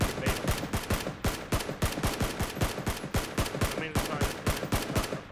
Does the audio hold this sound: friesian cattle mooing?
no